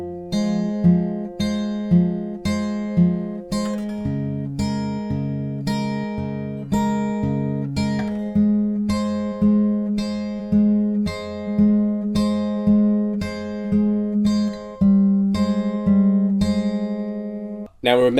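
Guitar plays the verse riff of a song, steady picked notes ringing in a repeating pattern with a bass note shifting midway, clear and moderately loud with no talking.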